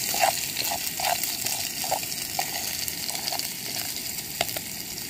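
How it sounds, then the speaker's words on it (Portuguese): Garlic frying in a pan for a quick rice and fish lunch, a steady close sizzle with light crackles and pops throughout. "Dá uma dourada aqui no alho."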